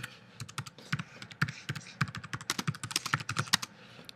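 Rapid, uneven keystrokes clatter on a computer keyboard, a close run of light taps that quickens toward the end, with no voices over it.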